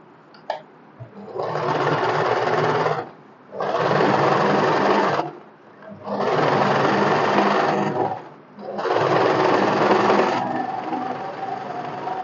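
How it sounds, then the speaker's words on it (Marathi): Sewing machine stitching cotton fabric for a summer one-piece dress, running in four steady bursts separated by short pauses, close and loud with no talking. "या साईडने दाब शिलाई मारून घ्यायची"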